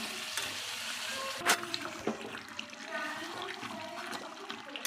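Spices being slowly fried down (kosha) in a covered pan over low gas, giving a continuous hissing sizzle with occasional sharp clicks and scrapes, close and fairly quiet.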